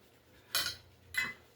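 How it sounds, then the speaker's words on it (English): Two brief utensil scrapes and clinks against a bowl while flour and cornmeal are stirred together into cornbread batter, close and fairly quiet with a pause between strokes. "now we're going to stir that together"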